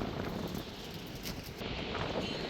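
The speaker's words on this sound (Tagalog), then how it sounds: "ang lakas ng hangin" Steady, broadband wind roaring against the microphone at the Banaue Rice Terraces in Ifugao, Philippines, constant and fairly loud throughout with no voices.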